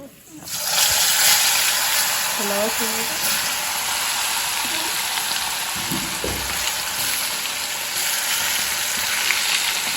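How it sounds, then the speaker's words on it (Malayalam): Chicken pieces fry in hot oil in a pan, seasoned only with salt, chilli and turmeric, producing a loud, continuous sizzle that rises sharply at the start, with a few brief voice sounds and clinks beneath it. "അങ്ങനെ നമ്മൾ ചിക്കൻ പൊരിഞ്ഞുകൊണ്ട് നിൽക്കുന്നുണ്ട്."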